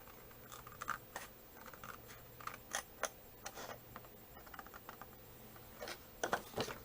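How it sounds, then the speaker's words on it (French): Scissors cut paper for a handmade advent calendar box, a close series of quiet, crisp snips and slicing strokes in an uneven rhythm. "je vais couper la partie dont je n'ai pas besoin"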